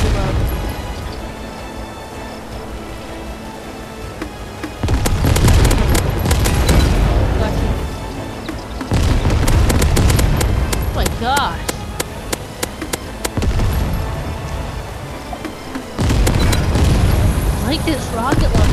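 Rocket launcher blasts in the video game Assault Bots, repeated booming explosions and rapid gunfire bursts in loud clusters, with game effects and a voice talking over them.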